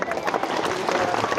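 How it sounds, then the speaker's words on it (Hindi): Brief burst of applause and clapping from a crowd at a village Independence Day school function, with children who took part being cheered, steady and dense throughout with voices mixed in. "तो एक बार ताली हो जाए"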